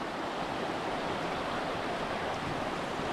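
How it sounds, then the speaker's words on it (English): A clear mountain stream on the Phelps Lake trail in Grand Teton National Park rushes down into the lake, giving a steady, even wash of flowing water that stays moderately loud and continuous throughout. "Beautiful water flowing, that's flowing down into the lake."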